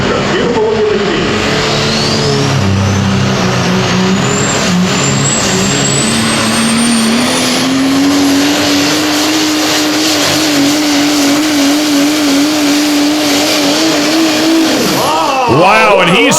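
Pro Stock diesel pulling truck roaring down the track during a pull, a loud sustained engine drone with rising turbo whine and climbing revs, with a commentator talking over it and the engine dropping away near the end.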